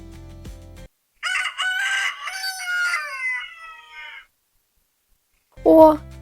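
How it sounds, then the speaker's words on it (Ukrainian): A rooster crows loudly and close by in a long, wavering call, set between short bursts of background music. "Це ж два гарних півники."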